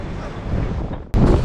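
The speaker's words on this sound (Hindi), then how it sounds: "इतना खतरनाक यहाँ पे हवा चल रहा है" Strong sea wind gusting across the Pamban bridge over the Bay of Bengal, a loud broadband roar buffeting the microphone, dipping briefly before a harder gust surges back in.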